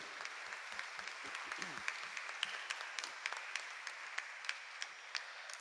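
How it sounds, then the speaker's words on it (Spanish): A congregation at Mass clapping for a bishop and priests, soft scattered applause with distinct individual claps standing out, fairly distant and quiet, with a low voice briefly audible early on. "Vamos a darle un fuerte aplauso, al igual que a los padres que nos acompañan."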